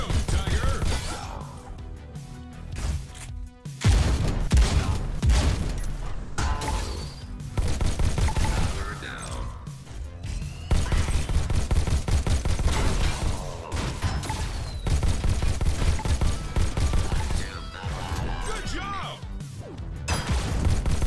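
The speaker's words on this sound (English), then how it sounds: "That rogue bot has a shotgun." Repeated shotgun blasts and heavy gunfire crash through a Robo Recall VR city fight against a rogue robot, loud and dense bursts spread across the stretch with clattering impacts between shots.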